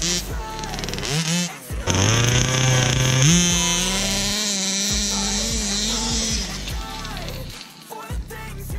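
A Baja 5B RC car on a speed run with its clutch slipping: a buzzing, two-stroke-like engine whine rises sharply in pitch, holds high and strong for several seconds, then drops away near the end.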